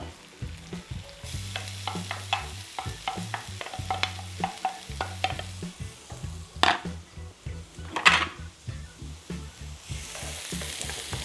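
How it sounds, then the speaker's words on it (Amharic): Garlic and red onion fry in a pan, a steady sizzle under repeated stirring scrapes and a few sharp clinks of a utensil against the pan, close and fairly loud. "ነጭ ሽንኩርትና ቀይ ሽንኩርቱን እያበሰልን ትንሽ አሁን ቅቤ እናደርግበታለን።"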